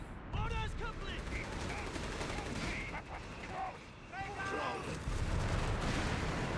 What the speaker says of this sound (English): Barrage is taking place all over the place here.